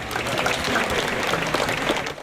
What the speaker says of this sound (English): they were met with applause from those waiting outside